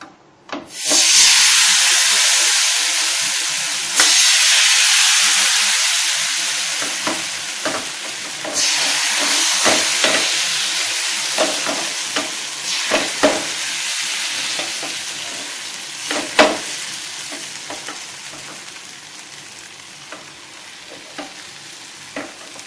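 Neer dosa batter poured onto a hot pan sets off a loud, sharp sizzle that fades slowly into a softer hiss, broken by light scraping and tapping from a utensil.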